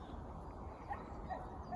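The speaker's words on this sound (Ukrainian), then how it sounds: "песик десь гавкає" A dog barks somewhere far off in a quiet forest park, faint and distant against a soft, steady background hush.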